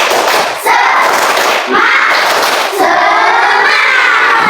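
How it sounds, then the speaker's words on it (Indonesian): Schoolchildren in a classroom perform the 'tepuk semangat' clapping chant, a loud burst of many young voices shouting together with rhythmic group claps, close and continuous across a few seconds. "Sebelum nyanyi coba kita tepuk semangat dulu. Tepuk semangat."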